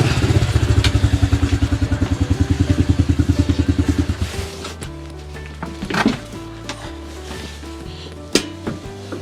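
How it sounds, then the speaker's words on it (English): A Honda CRF 110 dirt bike engine fires up and idles with a fast, even, close putter for about four seconds, then drops to a lower, rougher idle broken by a few clanks and knocks. "Honda CRF 110. Will it run?"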